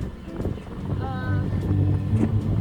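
A sailboat's motor runs at sea against wind and current, a steady low rumble under gusty wind noise on the microphone, with a voice talking over it.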